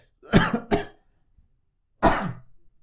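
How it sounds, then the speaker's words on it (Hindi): Two quick coughs in close succession, a pause, then one more cough, close and fairly loud, with silence in between, from a person with a winter cold. "सर्दी का मौसम है, थोड़ी खांसी आ रही है"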